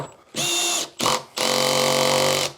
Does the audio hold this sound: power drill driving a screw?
yes